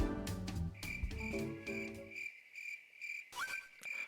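Crickets chirp in rapid repeated pulses within the Pokémon Xenoverse video game, heard alone with a steady high whistling tone layered over game music that fades out partway through.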